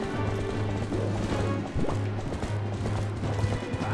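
Epona, the horse in the video game Twilight Princess, gallops with steady clip-clop hoofbeats under game music and effects, loud and continuous throughout.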